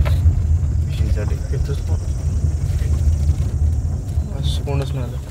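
Car engine idling steadily at low pitch while a car is parked at a fishing spot, a continuous rumble running throughout the clip, with voices talking over it.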